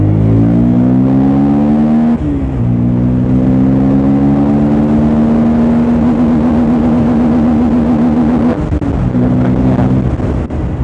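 Bajaj Pulsar N250 motorcycle with a misfiring issue, ridden on a road at high RPM; loud, steady engine drone with strong harmonic whine that rises and holds, a brief dip near two seconds and another near nine, no talk.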